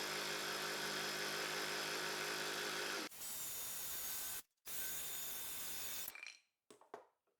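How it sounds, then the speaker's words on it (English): Jigsaw blade cutting wooden side supports for a floating-tenon project: a loud, steady buzzing cut for about three seconds, then a lighter running tone with a brief stop, ending in scattered clicks and quiet. "I use a jigsaw to cut out the shape"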